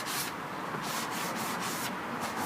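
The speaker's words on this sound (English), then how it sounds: "Okay, last bit of sanding." Rapid back-and-forth hand sanding on carved wood with a 360-grit pad, a soft rhythmic scratching rasp that repeats steadily without any voices.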